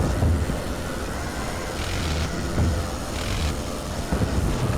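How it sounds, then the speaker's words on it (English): Engine drone from World War I aircraft in the flight sim Wings Over Flanders Fields, a steady low rumble that swells and fades slightly, running continuously through the clip without speech. "Yeah, I hear aircraft engines below me."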